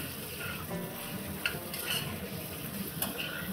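Paneer snack ingredients with onion and capsicum sautéing over a high flame, a low sizzle with occasional spatula clinks against the pan, fairly quiet throughout.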